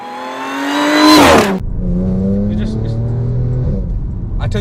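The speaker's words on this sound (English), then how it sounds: "at the back of the car you got the grumble of the engine" A supercharged Audi S4 B8 engine rises in a loud rev, cuts off abruptly, then settles into a lower, steady grumble with a faint whine riding on top.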